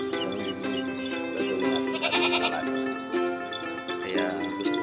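Boer goats bleat on a farm, with several strained, wavering calls rising over a steady background hum while someone speaks in the foreground.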